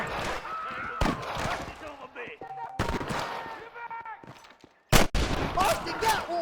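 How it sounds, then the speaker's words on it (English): Rapid bursts of gunfire crack out in Red Dead Redemption while rustlers are shot, with several loud sharp volleys among in-game shouting and background game sounds. "Are you gonna shoot any of these rustlers, boy?"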